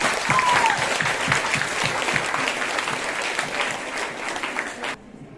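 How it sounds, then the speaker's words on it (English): Applause from students at an interclass quiz event, lively clapping from a crowd that carries on for several seconds and then stops abruptly. "Give them a big round of applause."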